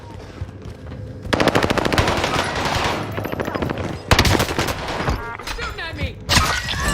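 Rapid automatic gunfire in the video game Call of Duty: Warzone, several long bursts of fast, loud shots broken by short pauses, mixed with other in-game firing and impacts.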